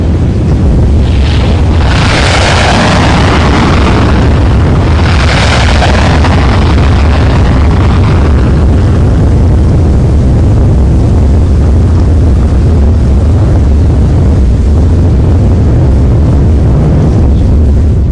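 Rocket launch engines ignite and lift off in a continuous, very loud broadband roar that swells early and then rumbles steadily on with no voices over it.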